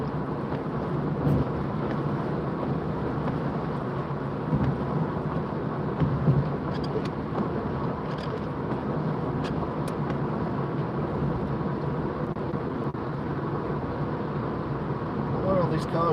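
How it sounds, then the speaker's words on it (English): Road traffic passes on the other side of a road while driving in drizzly rush-hour weather, a continuous low engine and tyre rumble with wet road hiss, steady and moderately close under occasional talk. "Quite a bit of traffic on the other side."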